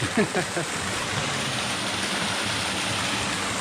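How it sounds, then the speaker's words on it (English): Loud waterfall roaring with steady broadband rushing water, found while exploring for a wild camping spot, close and continuous, with a brief voice at the start. "Waterfall's very loud."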